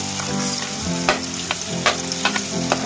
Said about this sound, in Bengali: তো তেলটা গরম হয়ে গেছে, আমি এর মধ্যে দিয়ে দেবো পেঁয়াজ কুচি